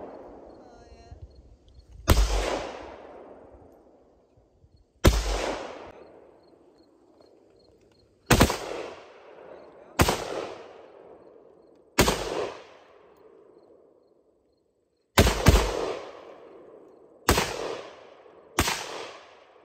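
Gunshots at an outdoor target practice session, seven sharp separate reports spaced a couple of seconds apart, each ringing out with a long echoing decay, loud and close.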